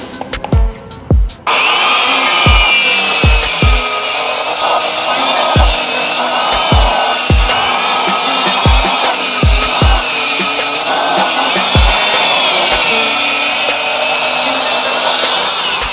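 A wood cutter gauge machine saws steadily through plywood with a loud, continuous whine, preceded by a few sharp knocks. Faint intermittent thumps continue under the cutting noise, and no voice is heard.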